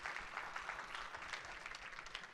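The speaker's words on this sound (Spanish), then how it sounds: "Dele un fuerte aplauso al Rey de la Gloria conmigo." A church congregation claps steadily together, a dense, even patter of many hands heard at a moderate distance with no voices over it.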